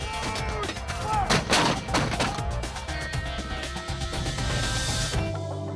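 105 millimeter artillery gun firing, loud booming blasts clustered near the start over a dense rumbling mix that carries on throughout.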